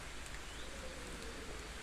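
Steady, soft rain falls without pause, a faint even hiss of drops on a surface with no voices over it.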